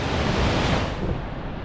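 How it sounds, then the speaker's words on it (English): A rushing river near a waterfall, shaded by teak trees, roars as a dense, steady broadband wash, loud and continuous with no voices. "And the rushing river."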